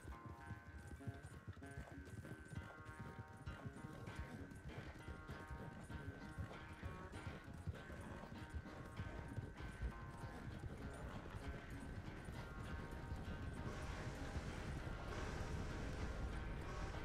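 A galloping horse races in Red Dead Redemption 2, its rapid, steady hoofbeats pounding close and loud for the full stretch, layered over a sustained musical score with little talk.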